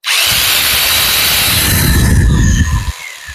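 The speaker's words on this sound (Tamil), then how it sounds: "இப்போ ஹேமர் ட்ரில்லிங் ஆப்ஷன் வைக்க போகிறேன்." A heavy Dong Cheng rotary hammer in hammer drilling mode grinds loudly and continuously, with a rumbling low end, then cuts off abruptly.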